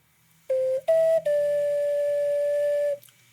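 A few pure, breathy ocarina notes from the last line of Song of Time: two short tones, then a long held note, played alone in a quiet room.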